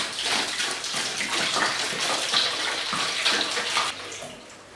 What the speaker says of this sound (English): So we'll put our water in.